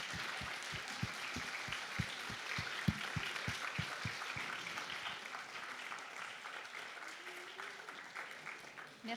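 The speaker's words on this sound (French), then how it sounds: "applaudir en hommage aux peuples autochtones et à votre alliance" Audience applause in tribute to Indigenous peoples at a rights gathering, dense clapping throughout with a few sharp low thumps early on, steady and fairly close, gradually thinning toward the end.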